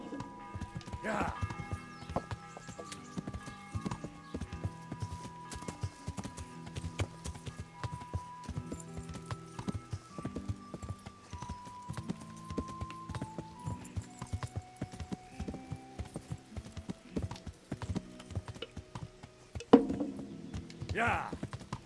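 Steady clip-clopping hoofbeats from a horse in the video game Kingdom Come: Deliverance, rhythmic and moderately loud, layered over background music and ambient game sounds.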